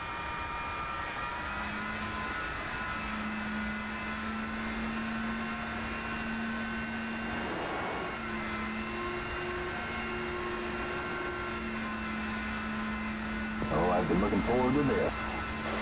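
Simulated F-4 Phantom II jet engines in the DCS flight game run up from idle toward taxi power, a steady loud whine and roar with tonal hums, brightening and swelling near the end, under quiet talk.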